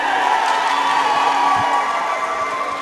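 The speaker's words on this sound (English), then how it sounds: "the Watertown Pomperaug fans cheering their team" Hockey fans in an ice rink crowd cheer for their Watertown/Pomperaug team after a winning goal, a steady wash of roaring and whooping voices that holds throughout without fading.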